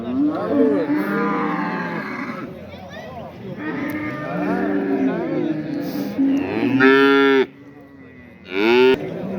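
A cow moos repeatedly at a livestock market, several long loud calls close by, with short breaks between them and some background noise.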